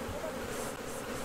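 Honeybees swarm around an open hive at a quarry site in Béard, giving a steady, dense buzzing drone that continues throughout with no talking.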